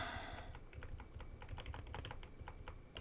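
Computer keyboard arrow keys are pressed repeatedly in a quick, irregular run of soft, quiet clicks over faint background hiss, with no one speaking.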